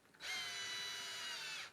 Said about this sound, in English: Works as a shop drill.